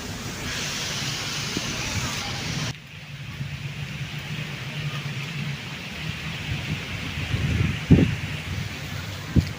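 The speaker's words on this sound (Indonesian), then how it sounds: "Ini berangin loh ya." Wind roars and buffets loudly outdoors, a broad rushing noise with gusts and a brief lull, plus a few faint knocks.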